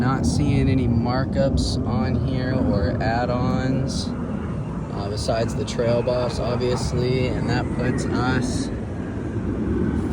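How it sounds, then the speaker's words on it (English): Jet aircraft roaring overhead outdoors near a Chevy Colorado dealership lot, a loud steady roar running beneath someone talking throughout. "Sorry for the jet noise."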